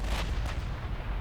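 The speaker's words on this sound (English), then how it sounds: "One of the reasons why I love 16-inch guns is I just like the sound they make when they fire." Heavy 16-inch naval guns booming in the warship game Ultimate Admiral Dreadnoughts, two deep blasts in quick succession over a dense rumbling background.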